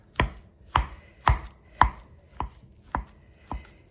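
A hand masher pressing down into a pot of food with garlic cloves, seven sharp thumping strikes at a steady, roughly half-second pace, close and clear with nothing else heard.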